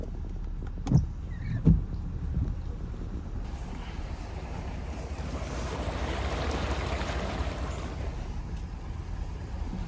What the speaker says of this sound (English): It literally looks like we're driving down a river right now.